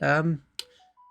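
A phone gives a short electronic beep after a burst of talking, a brief click followed by a rising pair of clean tones, quiet and close.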